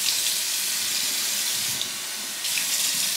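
Tap water runs into a sink while a face is rinsed, a steady, close hiss of flowing water that briefly softens midway and then resumes, with no voices.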